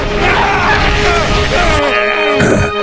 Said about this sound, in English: Goku draws a lot of blood while screaming from the pain.